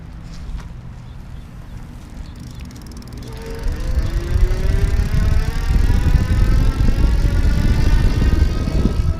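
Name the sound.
Easy Motion Evo City Wave electric bike accelerating on throttle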